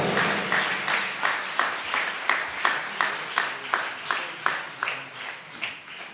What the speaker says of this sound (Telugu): గట్టిగా చప్పట్లు కొట్టి దేవుని మహిమపడదాం